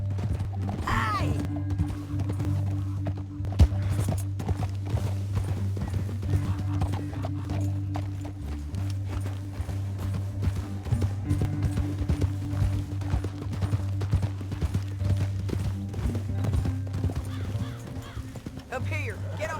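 Steady rhythmic clip-clop of horse hooves running in Red Dead Redemption 2, loud and close, with a low droning music bed and occasional voices underneath.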